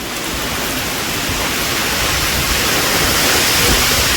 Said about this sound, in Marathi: जामच पाऊस आहे